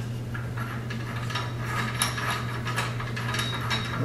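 A pendant light shade being screwed by hand onto its ceiling socket gives close, steady ratcheting and grinding mechanical clicks with faint rubbing over a low constant hum, and nobody talks.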